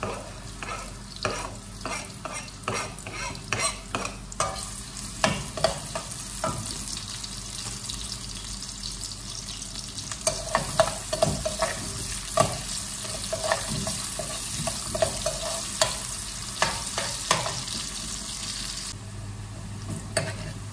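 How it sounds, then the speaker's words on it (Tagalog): Garlic and onion sautéing in a pan, a loud, continuous sizzle broken by frequent scraping stirs of a utensil, close and steady with no talk. "So magigisa na tayo ng bawang at sibuyas."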